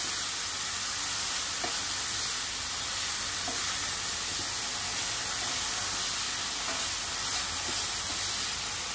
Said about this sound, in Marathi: अगदी 1 मिनिट आपण परतून घेतलेलं आहे शिमला मिरची आणि कांदा